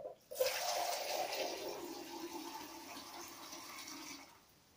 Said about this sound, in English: So you just want to keep filling it up.